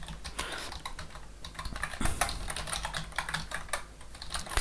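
Rapid, steady typing on a computer keyboard while entering C program code, close and clear, with dense irregular key clicks filling the whole stretch and no talking.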